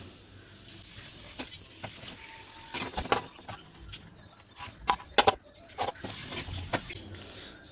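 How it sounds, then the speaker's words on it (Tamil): Appalam (papad) frying in hot oil in a kadai, a soft sizzle with scattered crackles and pops, close and fairly quiet, with a few sharper bursts. "இப்போ எண்ணெய் சூடாகிட்டு இதில் இந்த அப்பளத்தை பொறிச்சு எடுத்துக்கலாம்"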